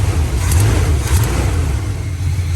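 A 1985 Chevy C10 pickup engine with a small exhaust leak runs close by, a loud low rumble that swells briefly as if lightly revved, then settles back toward a rough idle.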